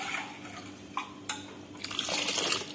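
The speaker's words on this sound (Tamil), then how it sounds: "கொஞ்சமாக தண்ணி சேர்த்துக்கலாம்." Water poured in a small splash into a pot of onion tomato sambar with tamarind water, a few brief splashes and drips rising to a steady pour near the end, close by in a quiet kitchen.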